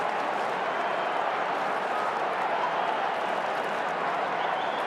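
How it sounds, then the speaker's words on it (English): A packed stadium crowd at the AFL Grand Final between Melbourne and the Western Bulldogs roars in a loud, unbroken wall of cheering, sustained evenly throughout with no pauses. "the crowd noise level here is illegal, JB. It is so noisy."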